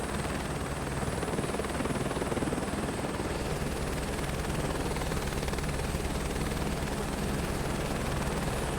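Helicopter on a scenic flight over the Lahaul and Spiti loop, heard from inside the cabin as a loud, constant rotor and engine roar with a steady low throb, no talk.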